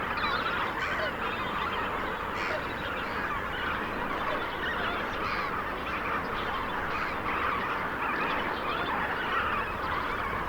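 A large flock of lesser flamingos calls in the evening, a dense, continuous honking chorus of many overlapping voices at steady volume throughout.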